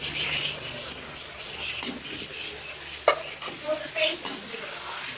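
Tomatoes frying in a pan for goat meat curry give a steady hiss and sizzle, with occasional louder stirring scrapes and clinks standing out against the continuous frying noise.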